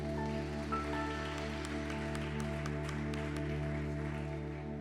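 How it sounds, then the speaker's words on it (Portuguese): A church congregation applauds at a family service, a steady, even patter of many hands clapping over a sustained keyboard drone. "E assim sauda o Senhor com a salva de palmas."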